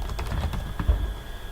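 Fingers typing on a computer keyboard, a quick run of light close key clicks with one firmer tap near the middle, heard alone without talk.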